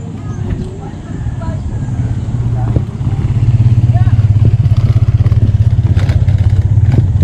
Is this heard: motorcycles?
yes